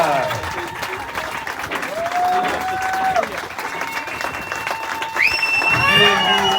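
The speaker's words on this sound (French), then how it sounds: "Applaudissements pour eux, s'il vous plaît." A crowd applauds and cheers over lively background music, with a voice speaking through the noise.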